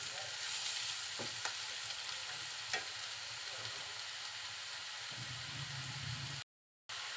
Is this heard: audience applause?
no